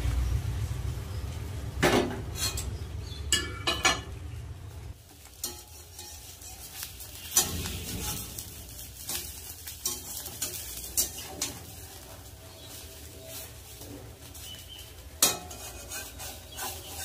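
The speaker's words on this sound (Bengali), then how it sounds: "এবার কড়াইয়ের চারিদিকে নাড়িয়ে নেব" Eggs being stirred around a hot wok with a utensil, scraping and clinking in irregular strokes over a low sizzle, with a few sharper metallic knocks against the pan.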